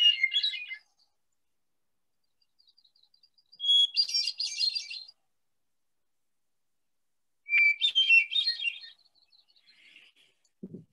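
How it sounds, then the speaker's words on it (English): Hermit thrush song at dusk near woods: three separate clear, flute-like whistled phrases with long silent gaps, fairly faint and distant, alone without talk. "the hermit thrush used to be called the American nightingale because of this lovely song."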